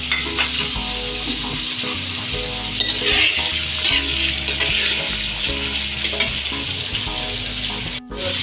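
Five shrimp fry in a pan with a spoonful of garlic paste, a spoonful of ginger paste and red and green chilies, sizzling steadily and loudly throughout, with a spoon scraping and clattering at frequent intervals.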